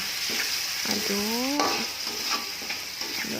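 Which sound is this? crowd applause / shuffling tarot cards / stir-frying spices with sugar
stir-frying spices with sugar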